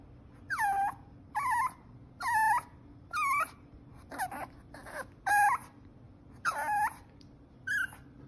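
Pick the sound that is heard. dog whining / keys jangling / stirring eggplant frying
dog whining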